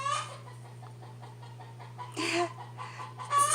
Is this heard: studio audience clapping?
no